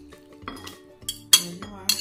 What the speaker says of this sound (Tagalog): Then, we're going to mix our sardines.